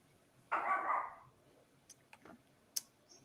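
A single loud dog bark stands out over quiet background, followed by a few faint clicks and taps.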